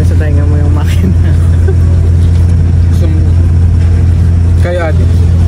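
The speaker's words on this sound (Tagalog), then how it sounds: "tumutunog yung makina, maingay." A boat engine runs loudly and steadily on the trip to Jomalig Island, a constant low droning hum with voices talking over it.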